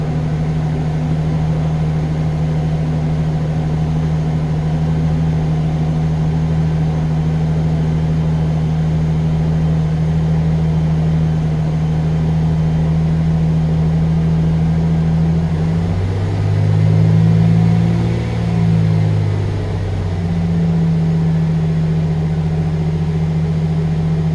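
A 2004 Chevy Silverado farm truck engine idling steadily nearby, a loud constant low hum with a brief rise and wobble in pitch partway through, then settling back to idle.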